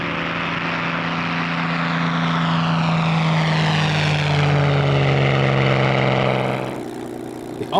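A Spitfire PR Mark 11 passes overhead at the Duxford airshow, its piston engine droning loud and steady and then fading away as it flies off.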